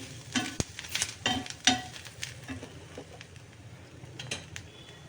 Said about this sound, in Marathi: कांदा ओबड झोबड कापलेला आहे तो आता आपण भाजून घेऊया